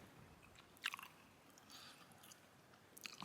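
Quiet crunchy chewing of undercooked noodles with a couple of sharper crisp bites, close to the mic, otherwise near silence.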